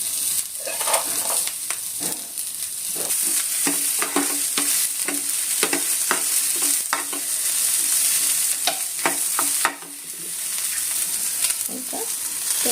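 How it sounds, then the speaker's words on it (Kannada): Spice ingredients and garlic fry in a pan for a Malnad-style bamboo shoot (kalale) palya, with a steady sizzle and repeated scraping stirs of a spoon against the pan, close and fairly loud. "ಈಗ ಇದಿಷ್ಟನ್ನು ಫ್ರೈ ಮಾಡ್ಕೋಬೇಕು."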